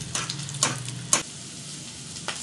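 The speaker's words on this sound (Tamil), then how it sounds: "நெய்யில் கொஞ்சம் முந்திரி வறுத்துக்கலாம்" Cashews frying in ghee, heard as a soft, steady sizzle with a few sharp clicks of a spoon against the pan, close and fairly quiet, with no voices.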